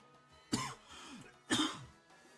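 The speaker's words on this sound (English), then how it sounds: "Sorry guys for the cough." Two distinct coughs, about a second apart, each a short harsh burst with a throaty trailing rasp, fairly close and moderately loud over a quiet background.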